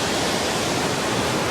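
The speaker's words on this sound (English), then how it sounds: "we have reached the waterfalls at the Inversnaid Hotel" Waterfalls at the Inversnaid Hotel on the West Highland Way, a steady, loud, broadband rush of falling water with no breaks.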